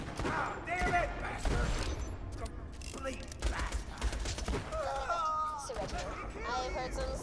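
Gunfire in the shooter Borderlands 2: bursts of sharp shots and mechanical clatter mixed with game effects, with voices talking over the action at times.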